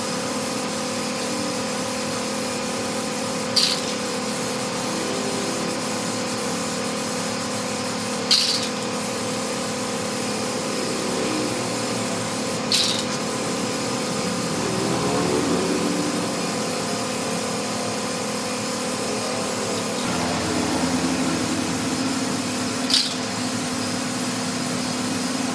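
A spray gun lays two to three coats of glossy clear coat with activator onto painted motorcycle wheel rims, a continuous hissing spray running throughout with brief sharp bursts at intervals, close and loud.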